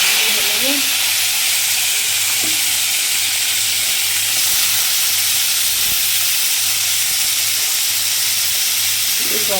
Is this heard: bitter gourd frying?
yes